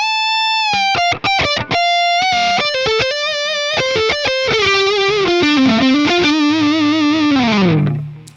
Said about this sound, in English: I think it's a BE100 amp with a 412 cab with greenbacks.